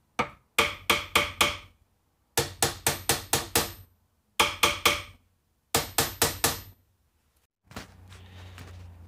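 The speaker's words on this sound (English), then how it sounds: "You can also tap on these to help set the bearings inside the caps." Repeated tapping on the bearing caps of a Toyota e-locker differential during a rebuild: five bursts of four or five sharp metallic taps each, close and crisp, separated by short pauses, with no talking.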